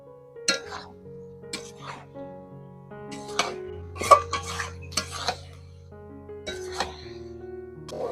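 Jackfruit with spices and turmeric is sautéed in a pan, with intermittent metal clanks and scrapes of a spatula against the pan over a steady tonal hum.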